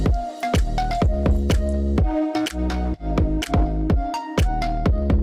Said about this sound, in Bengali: আমি আদা রসুন আর কাঁচা লঙ্কার পেস্টটা মাখিয়ে নিচ্ছি।